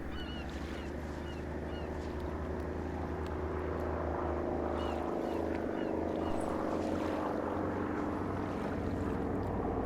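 Propeller airplane droning steadily in the WW2 Pacific war game ARMA 3, a continuous loud engine hum with low harmonic bands throughout, with faint background talk.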